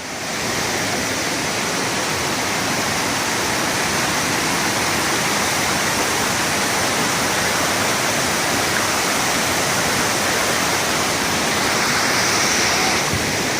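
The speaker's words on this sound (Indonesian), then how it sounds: "Kita nikmati indahnya alam air terjun Tujuh Bidadari." Tujuh Bidadari waterfall in North Aceh, Indonesia, pouring in a steady, dense broadband roar that stays loud and unbroken throughout with no voices.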